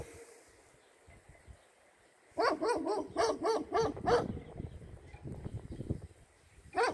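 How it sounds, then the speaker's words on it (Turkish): After a quiet stretch, a dog breaks into a rapid run of loud, close barks, then settles into softer, scattered barks, at a vineyard house in the mountains. "Bir tane köpek."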